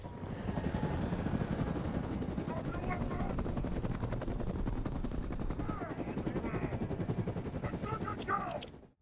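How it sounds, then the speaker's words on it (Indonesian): FBI helicopter rotors thrum loudly and continuously as they arrive from behind a mountain, with bursts of gunfire-like crackle mixed in, the whole din cutting off abruptly at the end. "Dari balik gunung, kemudian muncul beberapa helikopter FBI yang datang untuk meringkus Bobley dan Memphis."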